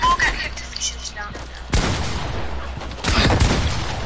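Bursts of rapid gunfire from a Fortnite creative free-for-all match, two loud fusillades cutting in over background game noise, with voices talking in between.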